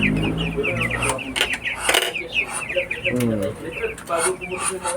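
Newly hatched ducklings peep in quick, high, repeated chirps close by, while people talk over them throughout.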